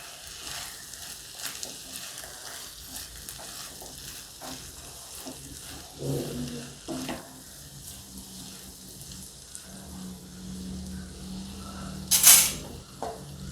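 Aloo methi sabji, potatoes and fenugreek leaves with salt, sizzles steadily in a pan while it is stirred, with intermittent scraping and clinks of the spoon near at hand, plus one sharper clatter late on; no one speaks.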